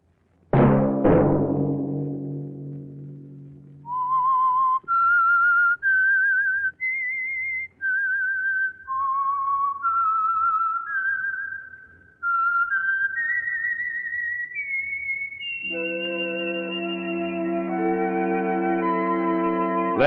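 Someone whistles a clear melody for about twenty seconds, moving through bright separate notes and ending on a long sustained tone, with no talking.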